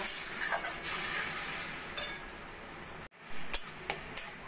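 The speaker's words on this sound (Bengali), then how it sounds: "লো ফ্লেমে রান্না করে নেব।" Onions cooking on a low flame with a little water in a pan, a soft sizzling hiss with occasional light scrapes and stirring clatter, a brief cut of silence midway, no speech.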